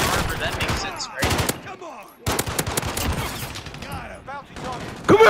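Rapid bursts of minigun fire in a shooter video game, loud and close, cut into several long sustained volleys with short gaps between them, while a player shouts over the shooting.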